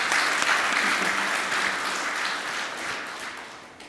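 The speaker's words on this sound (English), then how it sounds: "Wow, massive round of applause" A large conference audience at a cyber security event applauds in a dense, steady wash of clapping that holds loud for several seconds, then thins slightly toward the end.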